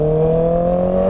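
A Honda 650R motorcycle engine runs at steady revs on the road, a loud, close, continuous mechanical hum with a strong even tone and no pauses.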